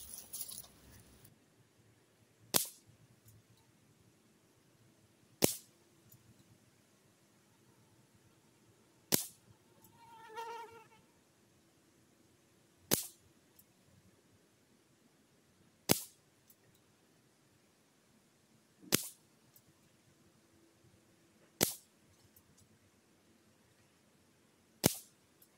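Sharp shots from a Reximex Lyra air rifle fired one at a time at regular intervals of a few seconds, each a crisp snap in otherwise quiet surroundings, with a faint whir once.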